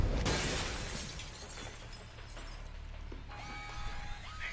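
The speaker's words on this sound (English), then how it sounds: "you might be able to find a way to break the glass" Glass shattering in the video game Alpha Protocol: a sharp, loud smash opens the sound, and a long crashing, debris-filled wash of breaking glass follows. Faint electronic tones trail near the end.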